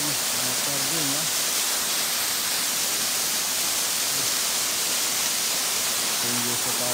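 A tall waterfall roars as a steady, dense broadband rush that fills the whole clip, with a few faint voices talking briefly underneath near the start and end.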